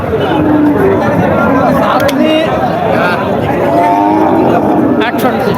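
Crossbred cattle moo repeatedly amid a loud, busy crowd of chattering voices at an outdoor cattle market, with lowing calls rising over the constant babble.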